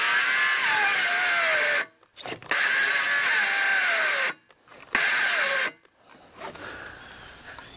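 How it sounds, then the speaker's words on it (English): A battery-powered saw cuts quarter-inch plywood in three loud, close bursts of whining motor and cutting noise separated by brief pauses, with quieter handling noise at the end. "battery powered saw does not have the power I need to go through 3/4 inch"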